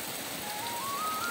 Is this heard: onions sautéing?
no